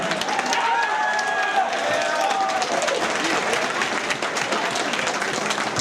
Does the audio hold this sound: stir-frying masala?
no